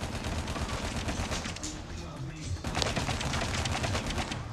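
Rapid gunfire from a Call of Duty Mobile match, a dense stream of shots running through the whole stretch with a brief lull midway, loud and close, with a voice faintly underneath.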